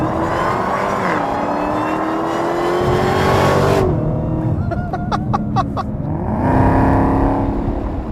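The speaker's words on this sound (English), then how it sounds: "The Challenger Hellcat is a hell of a car." A 707-horsepower Dodge Challenger Hellcat engine revs hard through the gears, rising in pitch, a quick gear change with popping bursts, then accelerating again with a throaty roar.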